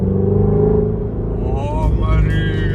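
A Shelby's engine sings through a rev under load, a loud, close rumble climbing in pitch partway through, with an exhaust note that rises and falls.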